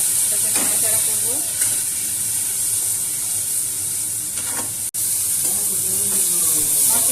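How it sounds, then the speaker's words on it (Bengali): A masala with cumin and coriander powder frying in a pan after a splash of water, giving a loud continuous hissing sizzle with occasional scrapes of a stirring spoon and one brief dropout. "ধনে গুঁড়ো, এর মধ্যে অল্প একটু জল দিয়ে এটাকে নাড়াচাড়া করবো।"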